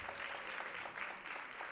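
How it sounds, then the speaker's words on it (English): A crowd at a lung cancer talk gives a round of applause: steady, dense clapping that holds at an even level for the whole stretch, with no voices over it. "So let's give a round of applause."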